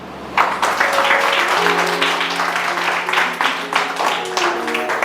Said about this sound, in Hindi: यीशु के लिए जोर ताली बजाएंगे।